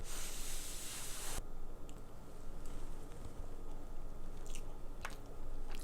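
Someone chews a bite of Betty Crocker mug cake with frosting, soft close mouth sounds and faint crumbly squishes under a steady background hiss.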